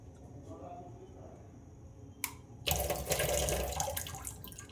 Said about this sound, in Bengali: এখানটা একটু জল দিতে হবে।